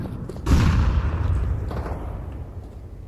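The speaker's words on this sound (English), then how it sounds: "Fire in the hole. Grenade. Grenade out. Throwing a grenade." In a video game, a thrown grenade and gunfire produce a sudden loud burst of shots and a booming blast that fades slowly into a rumbling tail.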